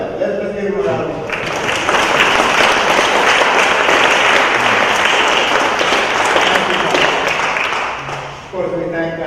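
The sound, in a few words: audience round of applause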